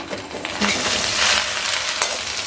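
Okra stir-fried with salt in a pan for a Tamil okra poriyal, giving a continuous close sizzle with a few light clicks and scrapes of stirring. No voices.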